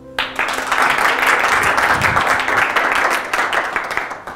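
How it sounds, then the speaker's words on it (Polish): A conference audience at CUT&USE 5.0 breaks into loud, sustained applause for a guest scientist, with tightly packed clapping that holds steady for about four seconds. "Brawa."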